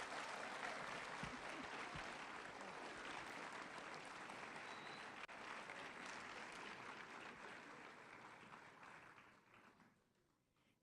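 A school audience at an honors ceremony for sophomore and junior top ten percent students applauds steadily for about ten seconds, a broad even wash of clapping that fades and stops.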